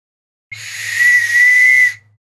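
A single shrill whistle is blown hard for about a second and a half, loud and close, with a breathy hiss around the tone.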